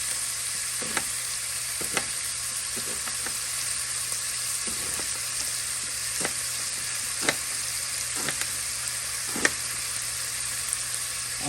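Food renders down and fries in a cast iron pan, a steady close sizzle with scattered crackles and pops throughout, and no talking.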